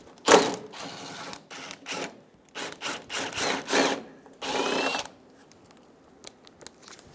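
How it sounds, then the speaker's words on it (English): A 10mm socket wrench works the bumper bracket bolt loose on a 2005-2015 Toyota Tacoma, with a series of short, close ratcheting and scraping bursts, then a longer final burst. "Using a 10mm socket, remove the bolt for the bumper bracket."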